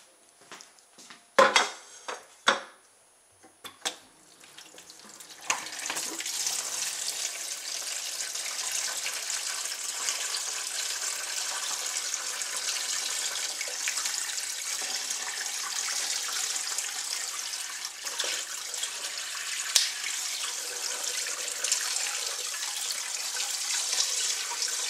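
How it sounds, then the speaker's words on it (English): A block of ice sits in a plastic container under a running tap, with a few sharp knocks and clatters early on, then a steady, close rush of water that runs on alone. "I'll run it under water first."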